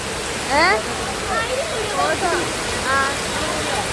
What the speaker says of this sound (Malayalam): ഇവിടെ മൊത്തം മഴ. മഴയാ.